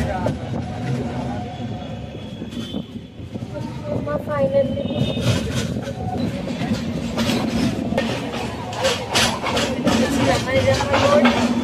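A crowded passenger train running on the way to Nizamabad, with a steady rumble and rhythmic wheel clatter building through the clip, under loud, constant chatter from people aboard.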